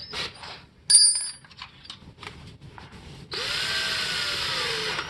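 A few metallic clinks and scrapes, then a power drill with a 1/8 inch bit spins up on a snow blower and runs steadily with a high whine, its pitch dipping slightly under load.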